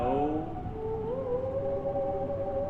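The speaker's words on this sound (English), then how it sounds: "With the theremin in the background?" A theremin plays softly in the background with a wavering, gliding pitch that slides up and down, heard without voices.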